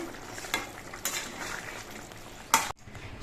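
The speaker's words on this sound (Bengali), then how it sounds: "এবার এর মধ্যে আমি পুরো গরম মশলা দিচ্ছি মিশিয়ে দিচ্ছি" A raw banana kofta curry simmers with a soft sizzle while garam masala is stirred in, and a utensil clinks and scrapes against the pan in several sharp knocks, the last one loudest.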